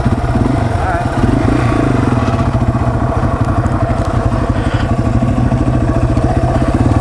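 A Yamaha TW200 motorcycle engine revs high and rattles steadily in first gear as it slows under engine braking down a trail, loud and close, with some voices underneath.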